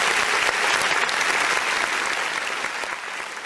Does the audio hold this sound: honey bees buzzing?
no